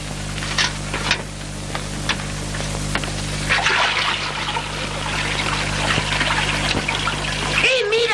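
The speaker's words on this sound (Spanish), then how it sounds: "Estás tirando toda el agua." Water pours and splashes as clothes are washed by hand outdoors, a steady trickling stream running through the clip with a louder splash near the end, under a low hum and background talk.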